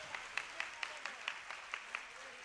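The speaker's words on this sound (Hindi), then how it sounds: "कम से कम इनके लिए जोर से तालियां बजती है कि नहीं?" An audience claps for a children's yoga performance at a Swami Vivekananda Jayanti event in Ulhasnagar, giving sparse, separate claps about every quarter second that sound faint and distant.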